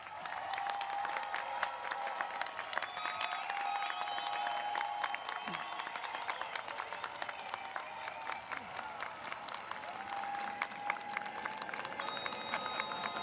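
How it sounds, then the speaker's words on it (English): Graduates at a 2021 engineering school commencement receive a long round of applause from the crowd, sustained clapping with scattered cheers and some talk, fairly distant and even throughout. "Please join me in another round of applause for our graduates."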